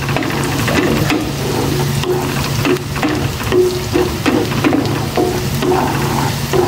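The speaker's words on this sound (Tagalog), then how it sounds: "Ipa-brown ko lang itong bawang. Tapos isunod ko na yung sibuyas." Garlic browning in a pan with onion added, a steady close sizzle with scattered scraping and stirring clatter throughout, no talking.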